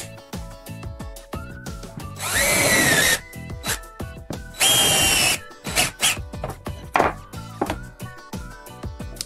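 A power drill bores a hole through a surface, with a zip tie fastened on the bit as a depth stop: two loud, whining bursts of drilling, separated by clicks, handling knocks and shorter motor blips.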